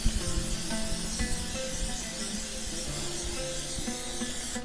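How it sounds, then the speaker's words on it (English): Butter spray from a can misted over baby carrots on a sheet pan, a steady, close hiss lasting several seconds with no talking. "we will add some butter spray on it."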